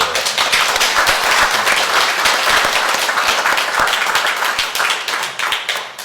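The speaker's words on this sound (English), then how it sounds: "Let's give Mike a round of applause." Loud, close round of clapping from the audience at the Edmund Fitzgerald remembrance ceremony for musician Mike Fornes after his tribute performance, dense and sustained throughout before easing slightly at the end.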